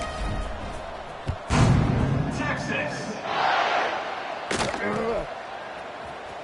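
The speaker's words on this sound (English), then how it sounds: "this crowd now ready to get behind them" Football stadium crowd roaring just before kickoff, a broad sustained cheer with a couple of sharp thuds and swells rising midway, heard over distant broadcast commentary.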